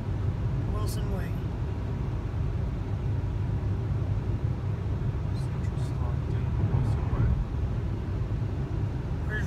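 A car drives through central Stockton, California, giving a continuous low road rumble and engine drone from inside the vehicle, with faint brief sounds on top.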